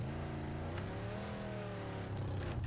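A car engine in a battle royale video game hums and revs steadily at close range, its pitch rising and settling across the whole stretch with no talk over it.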